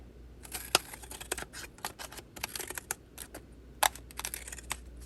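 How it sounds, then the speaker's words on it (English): Sharp, irregular snips and clicks of decorative scissors cutting paper for a favor pouch, close and quiet, with brief pauses between cuts. "finish it off with my fun scissors here"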